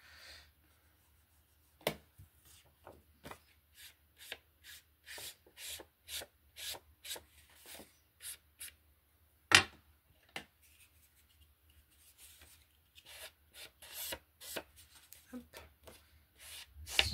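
A brush rubs paint onto a handmade winter gift box in a steady series of short, close scratchy strokes, with brief pauses between bursts and no talk.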